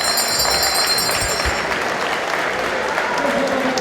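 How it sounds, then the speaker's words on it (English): Boxing crowd at a Buncrana bout applauding and cheering, dense sustained clapping with shouts mixed in, loud and close throughout. "The crowd's getting excited here."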